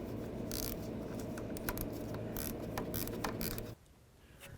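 Ratchet snugging a pinch bolt on the steering shaft of a Toyota Tacoma, heard as a steady dense mechanical clicking and whirring close up for nearly four seconds before cutting off to near quiet.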